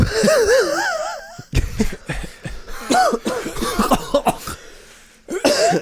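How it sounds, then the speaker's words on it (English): Repeated harsh coughs in bursts, close and loud, mixed with some wheezy laughter, after a wavering melodic tone at the start. "I'm really coughing"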